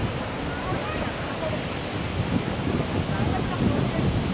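Bogatha waterfall in Telangana running full in the rainy season, a steady, dense roar of rushing water that fills the scene without a break.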